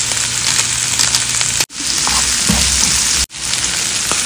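Seasoned chicken frying in a pan over medium heat gives a loud, steady sizzle, broken by two abrupt cuts, with light stirring clatter inside it and no voices.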